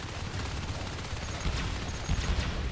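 Explosions and rapid gunfire from the video game Natural Selection 2 during a competitive match, a dense continuous barrage of bursts and blasts filling the clip at steady loudness.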